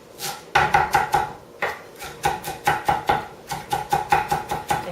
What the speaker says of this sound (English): just chop it up